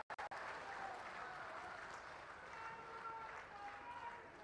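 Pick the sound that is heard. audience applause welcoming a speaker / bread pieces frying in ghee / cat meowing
audience applause welcoming a speaker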